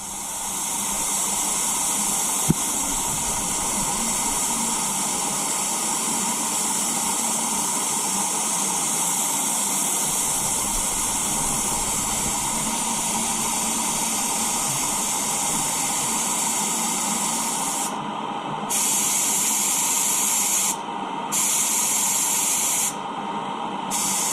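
Spray gun laying a coat of PPG Shadow Chrome paint onto a wheel, a loud continuous hiss that holds steady and then cuts off briefly in short gaps near the end.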